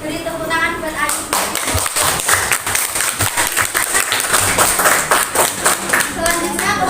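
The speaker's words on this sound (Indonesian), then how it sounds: "Beri tepuk tangan buat Ayu." A primary school class of fifth-graders applauds a classmate, bright close handclaps from many children ringing out together in a quick, uneven patter that carries on for several seconds.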